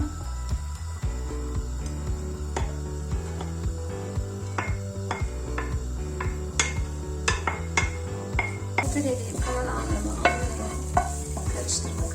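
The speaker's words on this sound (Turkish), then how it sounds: "Hemen tavanın altını açıyorum çok az bir zeytinyağıyla rendelemiş olduğum kara lahanamı soteleyeceğim." Grated black kale sautéing in a pan with a little olive oil, a steady bright sizzle broken by repeated clinks and scrapes of a utensil stirring against the pan.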